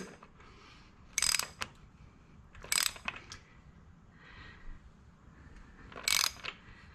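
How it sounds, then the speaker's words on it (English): A ratchet turns the engine crank of a 1972 Honda CB500 Four, making three short, sharp bursts of rapid metallic clicking with quiet pauses between them, close and alone. "I'm going to turn the crank to the other flat mark you saw earlier"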